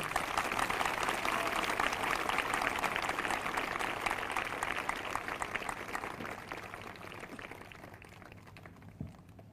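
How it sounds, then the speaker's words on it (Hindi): A prayer congregation at a live morning prayer service claps together in sustained, dense applause that stays strong for several seconds, then gradually thins and fades out. "ये तालियां आपने कितना एक मन होकर बजाई हैं"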